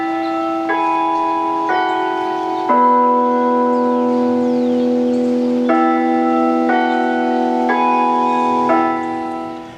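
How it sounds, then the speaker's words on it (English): Carillon bells in the Mississippi State University bell tower ring out a slow, steady melody of sustained, overlapping tones, loud and resonant with no voices, the last note decaying away. "You may have recently noticed that the Mississippi State Bell Tower sounds a little different."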